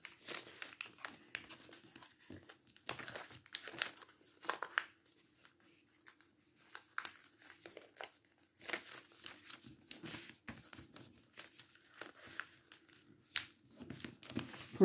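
Sheets of paper are creased and pressed flat while folding a modular origami star of Tomoko Fuse's design. Soft, close crinkles and sharp rustling snaps come in irregular bursts with quiet gaps, and no one speaks.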